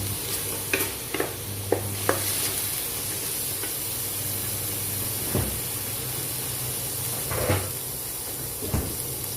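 Food sizzles and hisses steadily in hot oil with a little water added, with occasional sharp pops and spatters and the scrape of stirring.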